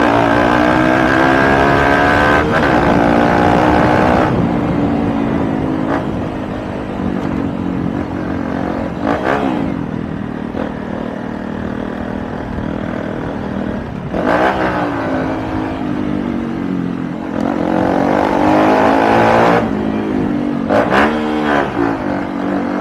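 A Honda Bros 160 motorcycle fitted with a Kadron exhaust revs repeatedly, its raspy, aggressive engine note rising and falling in loud blips over a steady idle, close by and continuous throughout with no talking.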